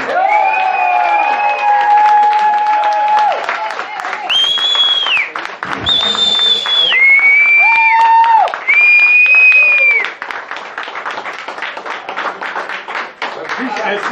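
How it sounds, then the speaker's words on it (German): An audience at a German stage show claps and cheers loudly throughout, a dense continuous wall of applause with sustained tonal musical notes and voices mixed in over it. "Das ist dein Applaus."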